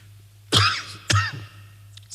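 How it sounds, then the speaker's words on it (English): Two sharp coughs from one person, close to the microphone, about half a second apart, followed by a quieter catch of breath, in a lecture hall with a low electrical hum behind. "Sorry for my cough."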